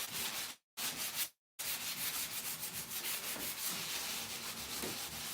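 Steady scratchy rubbing of 220-grit sandpaper on wood, continuous and close, broken by two brief pauses early on before the strokes resume.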